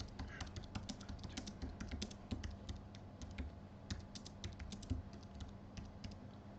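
Steady computer keyboard typing, a heading being typed into a document: a dense, fairly even run of quick, light key clicks over a constant low hum, with no talking.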